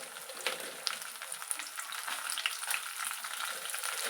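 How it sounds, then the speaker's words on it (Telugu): Raw urad dal and chillies fry in oil with a soft, even crackling sizzle and occasional small pops, fairly quiet and steady with no speech. "ఈ మినపప్పును వేయించేటప్పుడు ఆయిల్లో పచ్చిపప్పు మినపప్పు వేయించేటప్పుడు మంచి స్మెల్ వస్తుంది"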